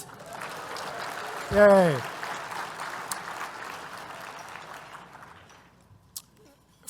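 Sustained audience applause fills a 2024 climate-solutions benefit event, steady and dense for several seconds before tapering off, with a brief cheer and voices breaking through near the start.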